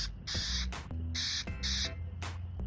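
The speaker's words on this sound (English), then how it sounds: "So just gonna spray a little in here." Three bursts of aerosol paint spray hiss into a small cup, each about half a second, over a low steady hum, close to the microphone.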